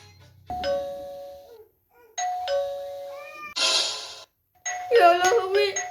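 A doorbell rings repeatedly in a home, clear two-tone chimes in separate bursts, interrupted by cat-like meowing cries near the end.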